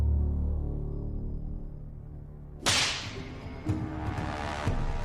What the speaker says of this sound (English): They will test the effect of the whip on a pig carcass.